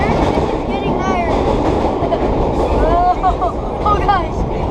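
NYC subway holiday nostalgia train running between 2nd Ave and Queens Plaza, heard from on board as a steady roar of wheels on track with squealing tones, while people chatter over it.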